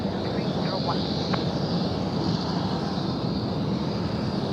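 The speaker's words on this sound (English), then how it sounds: "Here's the takeoff, runway 16 right, 301." A jet airliner taking off from runway 16 right at Sydney Airport at night, a steady, loud broadband engine roar holding throughout with a brief faint voice early on.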